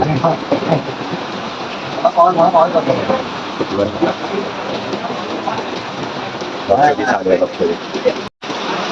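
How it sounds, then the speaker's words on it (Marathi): Steady rain pours down as a dense, loud hiss, with people talking and laughing close by throughout. "पाऊस पडतोय"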